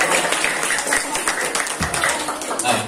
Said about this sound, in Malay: Beri tepukan untuk ahli-ahli panel kita.